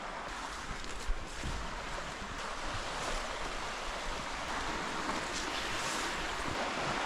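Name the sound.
flooded river flowing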